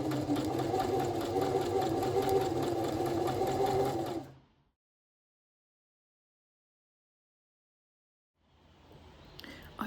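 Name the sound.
sewing machine sewing long gathering stitches on spring dress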